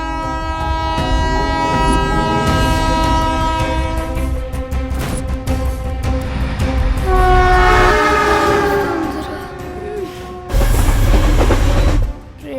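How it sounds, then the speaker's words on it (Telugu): A train passes close by, its loud horn sounding in long sustained blasts over the heavy rumble and rattle of the cars, with the noise swelling near the end. "ట్రైన్ వచ్చేటప్పుడు కళ్ళు కాదురా, చెవులు మూసుకోవాలి."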